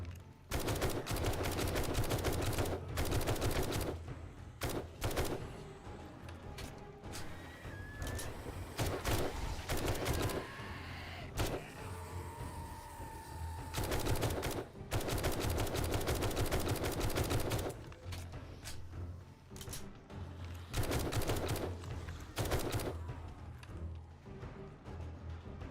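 Rifle fire with armor-piercing rounds in the zombie survival game 7 Days to Die, rapid bursts of gunshots in long repeated volleys separated by brief pauses, loud and close.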